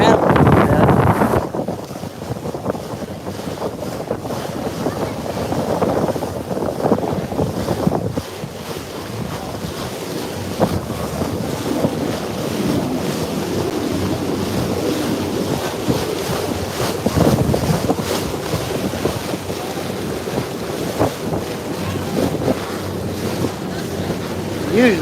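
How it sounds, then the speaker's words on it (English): Strong wind buffets the microphone aboard a whale watching boat out on the ocean, with waves washing and surging around the hull in a loud, continuous roar. "let's get out of the wind a little bit"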